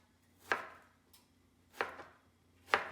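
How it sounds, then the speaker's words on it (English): A knife cuts strawberries into chunks on a cutting board, three separate sharp chops spaced about a second apart, close and crisp against a quiet background. "So I just kind of chop them into chunks here"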